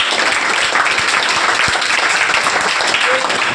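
Audience of students at a school welcome event for top students, clapping loudly for their teacher in a steady dense burst that fills the room, with faint voices mixed in.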